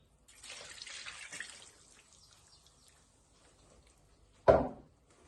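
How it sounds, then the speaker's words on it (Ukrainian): Sparkling water pours into a pork shashlik marinade with a fizzy, hissing rush for about a second, then quiet fizzing, followed by a single sharp knock near the end. "додаємо газованої води"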